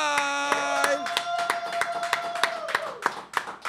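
A few people clap in sharp, separate claps as a freestyle rapper is welcomed on a show, with a sustained musical tone at the start and a brief voice passing underneath.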